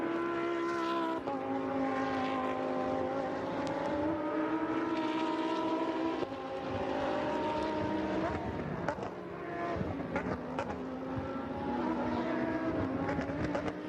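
Lamborghini Super Trofeo race cars at Imola, several engines droning together with sustained high revving tones that shift pitch through gear changes and corners, loud and continuous.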